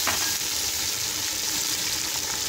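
Chopped onions frying in hot cooking oil in a pan for chana pulao, a loud continuous sizzle with faint stirring, close and steady with no talking.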